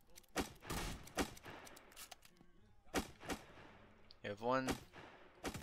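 Musket shots ring out in a Roblox survival battle at Peking: several sharp bangs spaced unevenly across the clip, with a brief spoken line among them.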